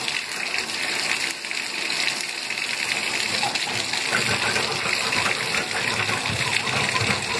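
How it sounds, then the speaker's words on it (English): Tap water gushes into a bathtub and swirls down a slow drain, a steady loud rushing stream with splashing that runs unbroken throughout. "One thing I like to do is now run some water. See if the water is going down quickly"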